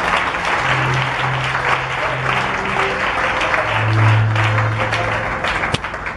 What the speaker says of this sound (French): Est-ce qu'on peut acclamer le Seigneur?